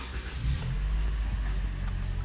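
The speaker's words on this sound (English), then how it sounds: "Let's start the car." A 2021 Toyota Camry XSE engine runs loud and close in a continuous steady rumble, with a slight rise in revs partway through.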